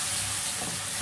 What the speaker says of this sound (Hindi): इसमें पकाएंगे मसाले में टमाटर को।